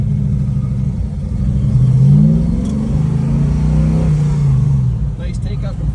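A black 1969 Ford Mustang restomod with a 428 big block pulls away in first gear, its deep engine note rising and falling close by over a steady rumble.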